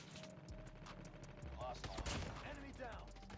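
Call of Duty Mobile gunfire rattles in quick repeated bursts, a steady run of shots with a louder cluster near the middle, faint and compressed game audio throughout.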